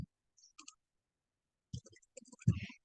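Several crisp computer mouse clicks are heard as items are selected and a copy button is pressed in storage control software, with a quiet click early on and a cluster of sharp clicks near the end, close and dry.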